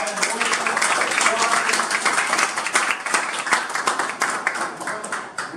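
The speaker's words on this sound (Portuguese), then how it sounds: "Receber com uma calorosa salva de palmas o nosso profissional" An audience at a Bitcoin event in Rio de Janeiro claps warmly to welcome a speaker, a dense, loud, continuous wash of hands with voices mixed in.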